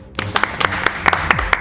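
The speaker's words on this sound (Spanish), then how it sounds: "Un aplauso para mí, por favor" Applause from an audience, with a run of sharp claps repeating at a quick, uneven pace across a short burst. Fairly close and moderately loud.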